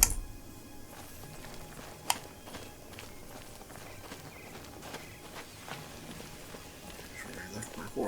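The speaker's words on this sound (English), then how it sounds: "Horse." Horse hooves clip-clop steadily in a modded Oblivion game, a paint horse walking in a regular, faint rhythm under a low ambient wash with occasional sharper knocks.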